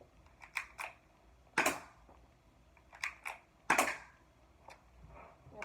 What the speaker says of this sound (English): this is what it sounds like whenever it shoots